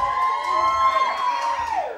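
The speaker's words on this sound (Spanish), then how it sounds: "¿dónde está el grito de la familia del novio?" Wedding guests from the groom's side at a wedding in Valsequillo shout together in a loud, sustained crowd roar, with a steady ringing tone running through it.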